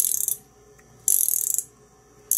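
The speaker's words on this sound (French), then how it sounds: "un cliquet." A ratchet wrench driving a long screw through a deep socket gives quick bursts of dense clicking, two long runs and a brief final one, separated by quiet pauses.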